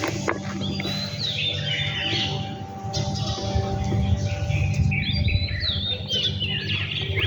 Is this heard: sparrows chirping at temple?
yes